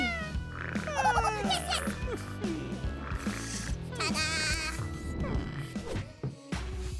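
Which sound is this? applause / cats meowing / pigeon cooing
cats meowing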